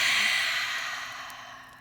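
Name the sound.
deep exhale through the mouth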